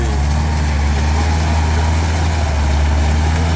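A tractor tilling a wet rice field runs with a loud, steady, close engine drone and a deep, even low rumble that stays unchanged throughout.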